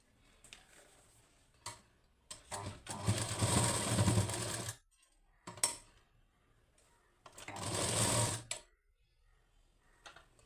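A sewing machine runs along the edge of a lined blouse in two steady bursts of whirring stitching, with quiet clicks and handling of fabric between runs; no one speaks.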